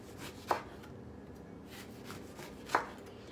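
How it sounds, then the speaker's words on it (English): A knife slices a lemon on a cutting board, two distinct close chops about two seconds apart over a faint room hush. "I'm gonna cut some lemon"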